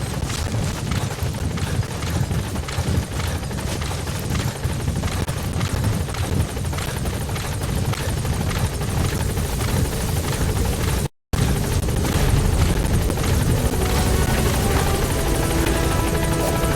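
A support helicopter in Metal Gear Solid V arrives at a landing zone, its rotor thudding loud and steady with dense wideband roar, broken by a brief dropout.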